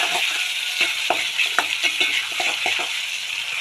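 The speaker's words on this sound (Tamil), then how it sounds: "இஞ்சி பூண்டு பேஸ்ட்டு போட்டு நல்லா வதக்கணும்." Ginger garlic paste sautéing in hot oil for bread masala, a bright steady sizzle broken by repeated scraping strokes of a spoon stirring the paste, close up with no speech.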